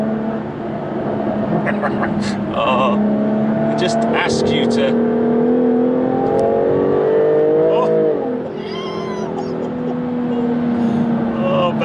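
Supercharged V6 of a 2016 Jaguar F-Type S Coupe revving hard on the road, rising and falling engine tones with crackly overrun pops when lifting off, someone talking over it.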